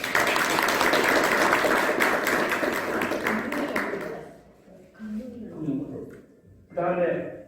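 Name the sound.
audience applause at policy forum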